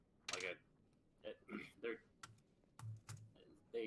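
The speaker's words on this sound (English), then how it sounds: "Oh yeah, there's some loud typing." Loud clacking of a computer keyboard comes through an online voice chat during a Dungeons & Dragons session, with short bursts of keystrokes and sharp clicks mixed with muffled voices.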